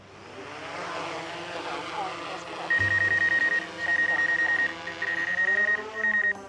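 A small drone lifts off outdoors on a snowy Alabama Gulf Coast neighborhood morning, its propellers giving a steady high whine with a low hum, while intermittent beeps sound through the continuous buzz.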